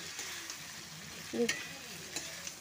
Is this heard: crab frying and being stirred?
yes